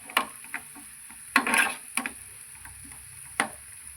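Onion sautéing in a pan is stirred with a utensil, giving a handful of sharp, irregular clacks and scrapes over a faint sizzle, close by.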